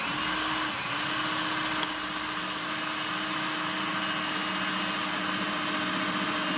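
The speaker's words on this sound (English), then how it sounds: "Now I'm going to drill the holes through this" A drill bores holes through the top faceplate of a DIY desktop jointer, giving a steady, loud, close whine with a constant motor tone and no talking.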